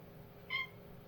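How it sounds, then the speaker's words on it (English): A single faint, short cat meow comes from a cat at a door in a quiet room. "that's my cat at my door"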